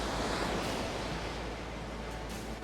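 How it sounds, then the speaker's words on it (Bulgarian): Waves of a slightly stormy sea at Sozopol on the Black Sea roll and wash in a broad, steady roar with wind rushing across the microphone, and no voices. "Морето днес е малко бурничко."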